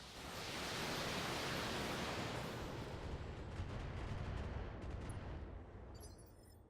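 A volley of long-range missiles launched by a BattleTech mech, a dense continuous roaring rush of rocket fire that swells and slowly fades out over several seconds.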